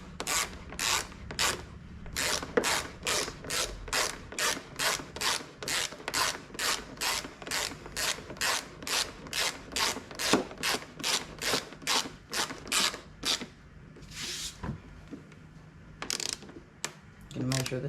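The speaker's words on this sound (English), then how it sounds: "You're going to screw your seat back on. This is why you need an extender, otherwise your handle won't reach" A ratchet with an extender clicks rapidly in long, even bursts while tightening the seat bolt on a KTM 250 EXC dirt bike, close and crisp, pausing briefly before a few final slower strokes.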